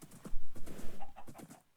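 Horse hooves thud in quick, uneven clip-clop steps as a horse climbs a hill in a video game, close and moderately loud over a faint background.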